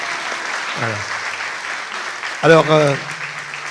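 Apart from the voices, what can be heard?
church congregation applauding Tamar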